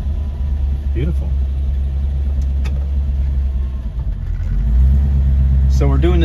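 A 1955 Lincoln Capri Sport Coupe engine runs steadily after a cold start, a deep, close, continuous rumble with a slight swell near the end, while voices talk faintly over it.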